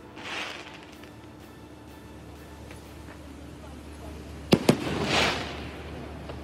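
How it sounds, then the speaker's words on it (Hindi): Fireworks go off in a noisy outdoor setting: two sharp, loud bangs in quick succession, then a crackling burst, over a steady background rumble. "ये देख लें जनाब, ये आतिशबाजी है ज़बरदस्त।"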